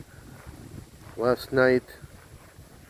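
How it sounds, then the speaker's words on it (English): Low, rumbling wind buffets the microphone throughout, with a short burst of speech breaking through in the middle. "we have a really windy day"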